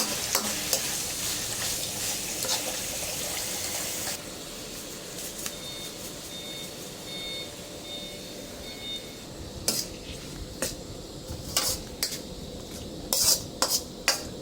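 Eel pieces stir-fried in a pan with southern Thai curry paste sizzle loudly at first, then settle into a softer fry punctuated by sharp metal utensil clinks and scrapes against the pan.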